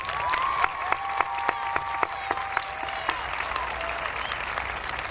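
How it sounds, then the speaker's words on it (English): Audience applause fills a 2004 commencement ceremony, a steady wash of clapping with a few sharper claps standing out, moderately distant, with no speech over it. "Please join me in giving them a round of applause."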